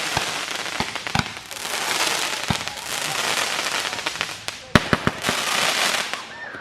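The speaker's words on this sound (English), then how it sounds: "Ethan's like shooting fire. He's got a wand" Fourth of July fireworks, including a handheld firework wand, crackle densely with sharp pops and snaps layered over a steady hissing spray. The display is close and loud, with one especially strong bang near the end.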